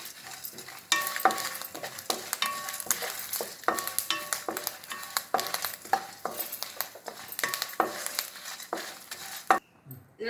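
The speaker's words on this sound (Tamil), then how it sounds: "கருவேப்பிலையும் அதோட சேர்த்து வறுத்துருவோம்" Spices for bisibelabath powder dry-roast with curry leaves in a pan, close and busy with rapid scraping stirs and light crackling sizzle in short irregular bursts.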